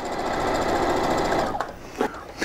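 A sewing machine stitches through a heavy weighted quilt filled with beads, a fast steady mechanical whir close up for about a second and a half before stopping, followed by a couple of brief handling clatters.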